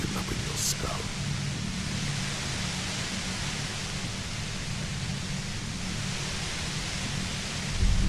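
Broad, steady white-noise roar from an industrial compressor in the game Disco Elysium. The hiss is loud and continuous, with a low rumbling hum underneath, and a voice is faintly heard over it.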